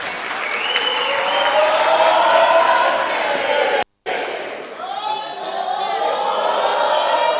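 An audience at a youth parliament session claps loudly and steadily, a thick wash of applause with some cheering that cuts out for an instant midway and then resumes at full strength.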